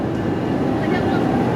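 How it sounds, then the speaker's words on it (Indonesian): The KA Gumarang passenger train departs a station in Surabaya with a loud, steady, close rumble of rolling stock that fills the whole stretch without pause. "Setelah semua penumpang turun, kereta api Gumarang kembali berangkat ya."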